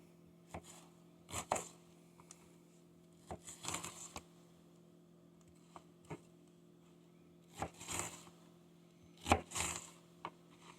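A Swiss army knife chops fresh onion in scattered bursts of quick, crisp cuts, with short quiet gaps between them over a faint steady hum.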